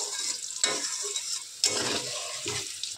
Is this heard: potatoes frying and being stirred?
yes